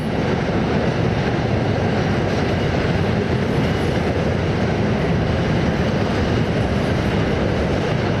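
A train rumbles past close by, a loud, continuous roar of wheels on rails that stays steady throughout with no voices.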